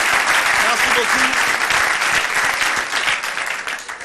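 Studio audience applause greets a guest on a Congolese television talk show set in Matadi, a sustained dense wash of clapping for about four seconds while someone speaks briefly over it.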